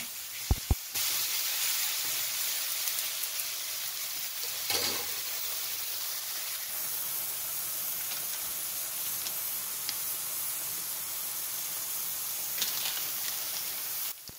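Ripe tomatoes frying in a pan with softened onions for a tamarind curry, giving a steady loud sizzle and hiss that runs unbroken, with a few brief clatters near the start.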